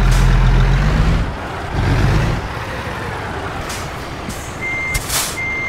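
Steady truck reversing beeps from American Truck Simulator, repeating through a low engine rumble and air brake hiss as the rig backs into a spot, with no talking.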